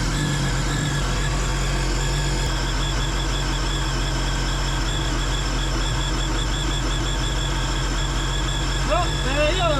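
A Rotax engine in a 2017 Sea-Doo RXT-X jet ski runs steadily at a constant hum, loud and close, while someone talks over it.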